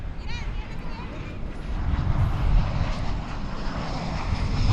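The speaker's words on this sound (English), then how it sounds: "I hear a plane." A passenger airplane arriving at Dallas Fort Worth airport roars with a broad, steady rumble that builds slightly toward the middle, with voices talking over it.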